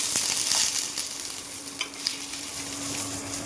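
Potatoes fry in a pan with a steady close sizzle and crackling hiss, broken by a few soft stirring taps.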